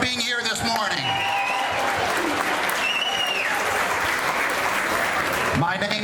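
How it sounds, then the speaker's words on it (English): Applause from a morning Labor Day gathering of a county Republican Party crowd in Texas, a steady dense wash of clapping that fills the whole stretch at full loudness, with voices mixed in. "Give yourselves a round of applause for being here this morning"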